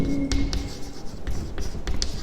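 A pen scratches on paper in short strokes and taps while verification steps for a class 10 polynomials exercise are written out by hand, close and fairly quiet.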